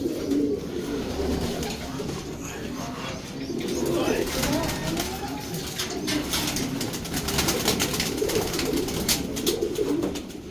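A pigeon coos in soft, low repeated phrases close by, with rustling and handling noises around it and occasional background chatter.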